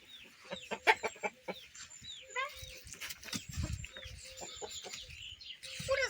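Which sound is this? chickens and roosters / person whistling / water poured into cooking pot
chickens and roosters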